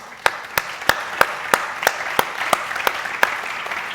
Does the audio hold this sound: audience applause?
yes